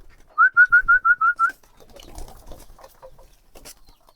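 A close, loud series of seven quick whistled notes in an even rhythm, then fainter fluttering and shuffling from pet pigeons gathering for their afternoon feed.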